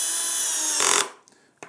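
A power drill whirs steadily as it drives a screw into the wooden stand for a straight stitch sewing machine, the motor stopping abruptly after about a second, followed by a couple of faint clicks.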